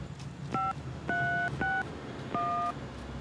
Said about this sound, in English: enter your PIN number, then press pound